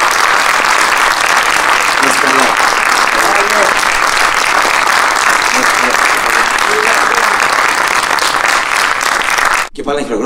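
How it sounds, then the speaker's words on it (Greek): Audience at the 16th International Conference on Meteorology, COMECAP 2023, applauds in a loud, dense, sustained burst of clapping that fills the room, then cuts off abruptly near the end. "Και πάλι ένα χειροκρότημα, σας παρακαλώ"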